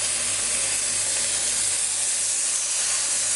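Lamb searing over high heat in a hot pan, a dense continuous loud hiss and sizzle close by with no talk.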